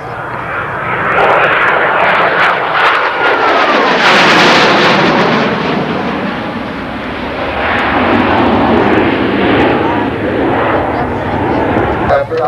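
A Harrier jet makes a high-speed pass, a loud roaring engine swell that rises, peaks midway and rumbles on as it passes, with an announcer talking over it.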